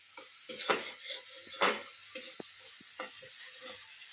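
Masala for a vegetarian okra dish sizzles in oil in a pan, a soft steady fry broken by several sharp spoon scrapes and clinks against the metal, close by and with no talking.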